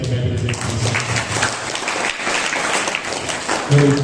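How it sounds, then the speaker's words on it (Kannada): Seminar audience at a school clapping loudly and steadily, a continuous crowd of hands with a voice speaking over the noise. "ಹಾಗಾಗಿ ಮತ್ತೊಮ್ಮೆ ಶಾಲೆಗೆ, ಶಿಕ್ಷಕರಿಗೆ, ರಂಗ ಪರಂಪರೆ ಟ್ರಸ್ಟ್ಗೆ, ಮುಖ್ಯಸ್ಥರಿಗೆ ಜೋರು ಚಪ್ಪಾಳೆ"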